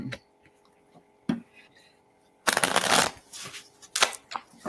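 Cards being shuffled during a tabletop card game: two brief riffles early, then a longer, louder bout of riffling and bridging in the second half, close and crisp with no talking.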